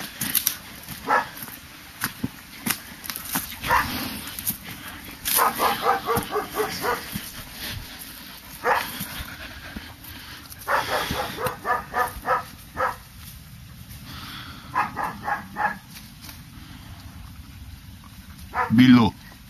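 Dog barking in the countryside at an empty porcupine den, sharp yips, whimpers and bursts of barks coming in irregular clusters, near and fairly loud, with a person speaking Italian now and then.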